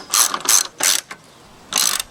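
Ratchet wrench running down the shock-tower bolts of a strut bar on a BMW E36, loud and close, in four bursts of quick clicking separated by short pauses.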